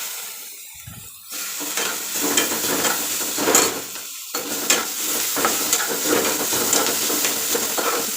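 Chopped tomatoes drop into onions frying in ghee, setting off a loud, steady sizzle with stirring scrapes and brief bursts after a quiet start.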